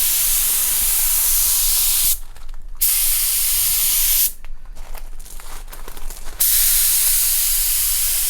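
A spray gun lays a second coat of paint on the rear bar of an 80 Series vehicle: a loud, steady hiss of spray broken by two short pauses, no voices.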